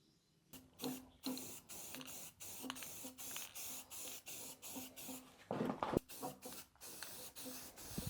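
Short bursts of spray paint hiss repeatedly as primer and paint are sprayed onto zero-turn lawn mower frame legs, each burst separated by brief pauses, close and fairly loud.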